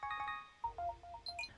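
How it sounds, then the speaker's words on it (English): A phone rings with a short melodic ringtone, a quick sequence of bright electronic tones over a faint low background, heard briefly and up close. "The phone rang again."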